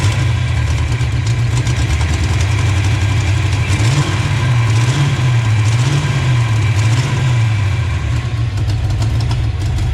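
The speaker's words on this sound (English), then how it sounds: "Kind of idle now. Sounds a lot more healthy" A 1988 car engine idles steadily and loudly up close, its low rumble wavering slightly in pitch as the revs settle.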